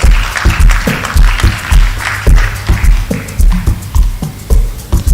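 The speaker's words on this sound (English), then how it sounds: "A round of applause for the Dean." An audience at an academic induction ceremony for the laboratory technology profession claps steadily for the Dean of the Faculty of Science, a dense, loud round of applause with no talk over it.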